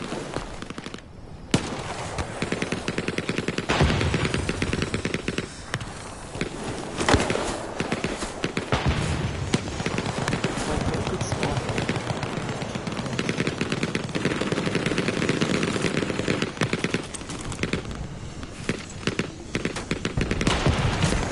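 Light machine gun fire in the video game Hell Let Loose, dense overlapping bursts of automatic shots and battlefield noise that run almost continuously at a loud level, with no voices.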